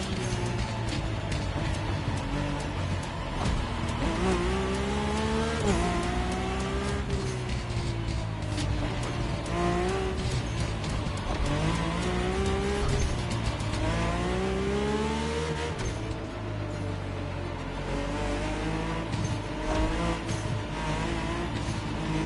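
A Mercedes-AMG One races through hairpin bends in The Crew Motorfest, its engine roaring continuously and loud. The pitch sweeps up and down through repeated revs and gear changes, with brief tire squeal and no talking.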